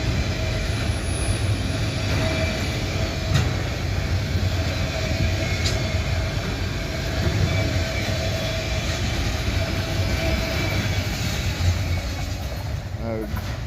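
CSX freight train rolling past at close range, a continuous heavy rumble and rattle of railcars with faint wheel squeal and a brief clank near the end, while people talk over it.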